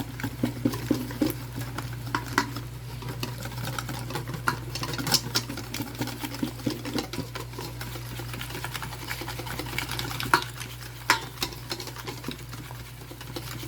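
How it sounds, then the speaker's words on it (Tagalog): A whisk stirs a simmered milk, sugar and flour mixture in a pot over heat, giving a steady scraping and swishing that runs the whole time over a low, constant hum. "And then dito, imimix na natin siya using our whisk."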